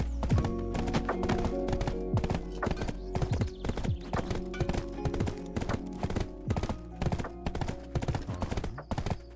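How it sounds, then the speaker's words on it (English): Steady, rhythmic clip-clop of horse hooves trotting on a hard surface in a video game, continuous and fairly close, with a low droning background. "we have a horse"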